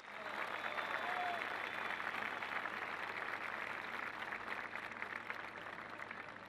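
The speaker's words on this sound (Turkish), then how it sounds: "Güçlü bir alkış." A large outdoor political rally crowd in İzmir gives strong applause: a dense, sustained wash of many hands clapping at once, loud and continuous throughout.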